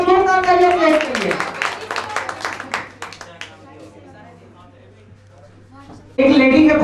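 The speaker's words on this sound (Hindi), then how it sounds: "राइट आंसर पर जोरदार तालियां प्लेस करिए।" A quiz audience bursts into a quick round of clapping for a correct answer. It fades over a few seconds, a host's voice opens the clip, and the clip ends in renewed talk.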